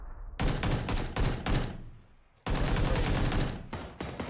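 Rapid bursts of gunfire from the battle royale game PUBG during a tournament match, loud and close, with a brief lull before a dense, sustained volley resumes.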